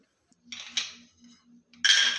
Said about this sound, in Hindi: दूध को चलाते रहेंगे